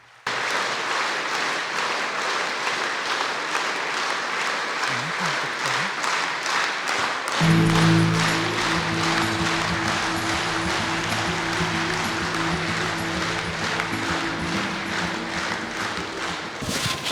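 An audience gives sustained, dense applause for the arrival of a religious teacher, with clapping continuing throughout and a musical tone joining partway through.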